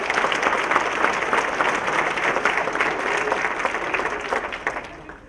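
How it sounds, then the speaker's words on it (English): A business appreciation breakfast crowd breaks into steady, dense applause, a full roomful of hands clapping continuously and fairly loud throughout. "round of applause for you"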